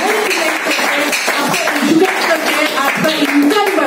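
Audience applause for the leaders at a motivational meeting, a dense, continuous patter of clapping hands filling the room at steady loudness.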